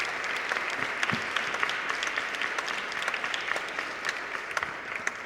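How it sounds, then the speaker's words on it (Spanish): Steady applause from an audience at a book presentation during a book fair, continuous dense clapping throughout with no talk over it. "de Lidia Cacho, para quien pedimos por favor un fuerte aplauso."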